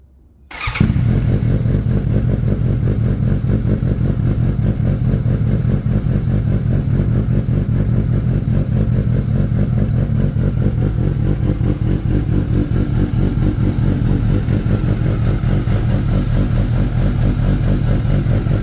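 A Suzuki GSX-S750 motorcycle fitted with a Yoshimura R11 exhaust, silencers removed, fires up abruptly after a brief quiet moment and then idles and revs loudly and close, a deep rough burble continuing steadily to the end.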